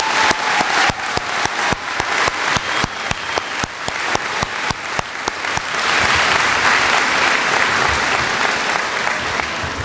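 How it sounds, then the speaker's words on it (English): Audience at a 2022 high school graduation ceremony applauds veterans and military, dense sustained clapping that swells louder in the second half, with no talk over it. "Please join me in giving them a huge round of applause."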